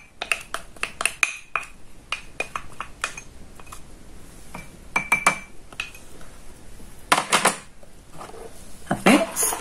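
A glass bottle clinks and knocks on a kitchen surface during preparation of a homemade skin-lightening recipe, in irregular sharp taps and rattles with quieter handling noise between them, close and moderately loud.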